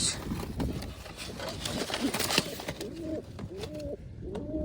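Wild pigeons nesting in a tree give soft, low cooing calls, several short phrases rising toward the end, set against steady outdoor background noise with scattered knocks and rustles.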